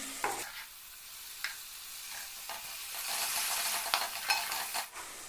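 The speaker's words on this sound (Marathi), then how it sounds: "यामध्ये आता टाकते वाटण" Ground masala paste is stirred into sizzling fried spices in a pan for a river crab curry, a steady close hiss with repeated scrapes of a spatula.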